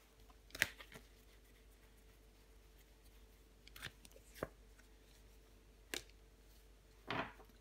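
A tarot card is laid down over another on a table, giving a few soft, short card slaps and shuffles spaced apart in a quiet room.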